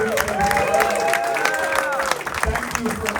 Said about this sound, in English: One more round of applause for the cast and crew.